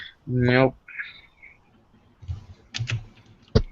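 A computer keyboard gives a short burst of quick clacking keystrokes, close and fairly clear, just after a brief spoken word.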